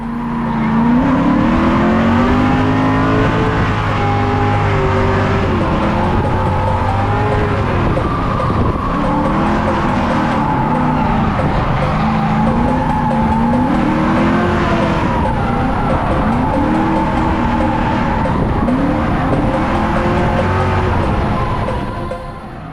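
A drift car carving a drift session, engine revving and wavering continuously with skidding tyre squeal, loud and close throughout with no talk.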